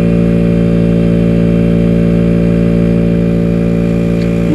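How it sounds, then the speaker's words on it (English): An onboard air compressor runs steadily while pumping up car tyres, a loud, close, continuous droning hum with a regular pulsing throb, unbroken for the whole stretch with no talk. "Nothing beats the sound of a onboard air compressor in the morning."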